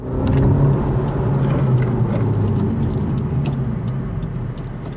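A Honda Civic's 1.5-litre turbo engine with manual transmission hums steadily from inside the cabin while driving in town, with low mid-range drone, road noise and occasional faint clicks, no talking.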